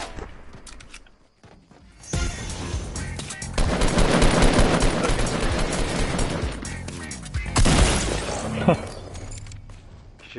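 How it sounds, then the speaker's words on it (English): Rapid automatic gunfire in a video game rattles loud and close in sustained bursts, with sharp shots and quieter gaps before and after and a voice speaking briefly. "What are you shooting at?"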